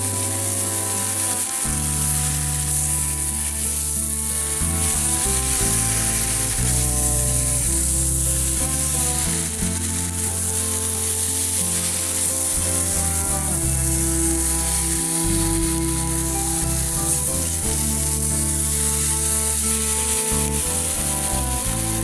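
Taro pieces coated in spices frying in hot oil, a continuous loud sizzle running throughout, with music playing over it and no talking.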